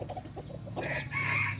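Roosters and hens of a young crossbred flock in a pen with a breeding cock cluck faintly in low bursts before a rooster's crow rises, rather quiet and somewhat distant, with no speech.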